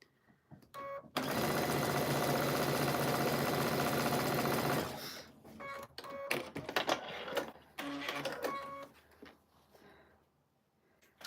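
A sewing machine stitches a quilt block in one loud, steady run of fast whirring, then short stop-start bursts with brief pauses between them.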